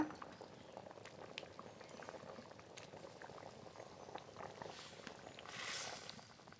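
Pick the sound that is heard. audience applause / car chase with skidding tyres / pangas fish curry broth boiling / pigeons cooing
pangas fish curry broth boiling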